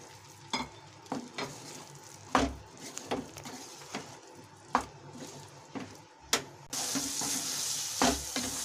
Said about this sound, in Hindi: और ये हमारे मशरूम मटर अच्छे से मिक्स हो चुके हैं।